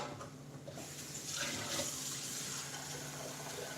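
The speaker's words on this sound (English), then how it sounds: "now we're gonna put 6 cups of water. The best way to do this is just start dumping it in" Six cups of water are dumped into a pot while cooking, giving a steady, fairly quiet splashing rush with no talk over it.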